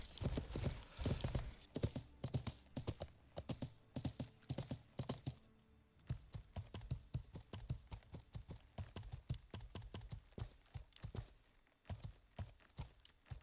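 Horse hooves in the video game Life is Feudal: Your Own clip-clop in a quick, steady rhythm on a hard surface, pausing briefly before resuming at a similar pace.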